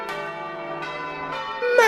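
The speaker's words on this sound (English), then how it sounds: "The church bells rang out over the city" Church bells ringing out over a city, several resonant strikes in succession with long ringing tones overlapping, loud and close.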